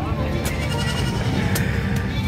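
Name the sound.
goat bleating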